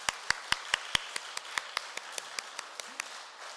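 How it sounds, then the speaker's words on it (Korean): A small gathering at a Won Buddhist temple service gives a few sparse claps, single hand claps spaced out and fairly faint, fading off over a few seconds. "박수를 치시려면 치시고."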